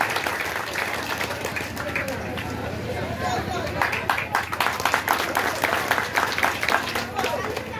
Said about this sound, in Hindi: तालियों के साथ स्वागत कीजिए